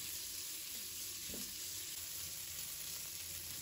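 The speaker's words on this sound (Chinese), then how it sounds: "给它翻炒一下，把五花肉炒出多余的油脂，用铲子不停地翻炒" Pork belly sizzles steadily in oil in a wok while a spatula keeps it moving, an even, fairly faint hiss with one brief scrape and no talking.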